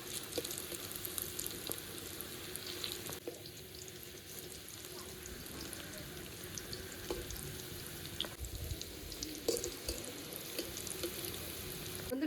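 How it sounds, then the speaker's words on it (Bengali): Shaped fish roe fritters fry in hot oil, giving a soft, continuous sizzle and bubbling that stays steady and fairly faint throughout, with a few light scrapes and taps mixed in. "এবার এক এক করে বড়া শেপ করে ভেজে নেব"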